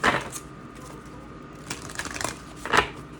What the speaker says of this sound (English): let's get a quick little shuffle, and then we're gonna see what come out.